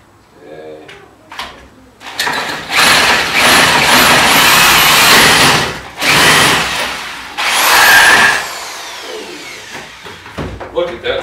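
A power drill drives a spade bit into wood over a scrap of OSB in three loud, close whining bursts, the bit straining and rising in pitch, with voices talking before and after.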